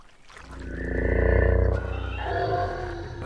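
A devil toad gives a deep, resonant croaking call that swells and fades, low and throaty, with no voices around it.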